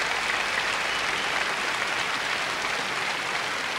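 The press corps audience at the Eurovision Song Contest 1985 applauds, a dense, steady wash of many hands clapping at constant volume throughout.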